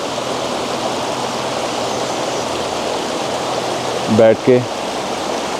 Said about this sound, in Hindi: जो नदी की आवाज़ होती है पानी के बहने की, वो कंटिन्यूसली आपको आएगी